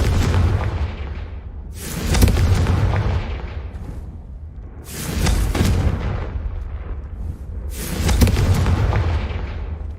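Repeated deep booming blasts of the Confringo fire spell in the video game Hogwarts Legacy, four heavy explosions spaced about three seconds apart, each with a rumbling tail, and no speech.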